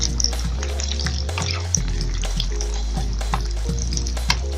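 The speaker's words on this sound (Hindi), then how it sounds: "ये हमारे कटलेस जो हैं वो फ्राई हो चुके हुए" Potato cutlets coated in flour and gram flour fry in oil over a medium flame, giving a steady, loud, close sizzle with faint stirring and scraping sounds.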